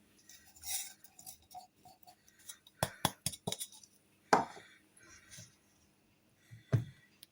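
Ingredients for sugar-free Basra halawa are mixed with milk powder in a bowl, giving scattered close clinks and taps of a utensil against the dish in short irregular clusters between pauses, with no talking.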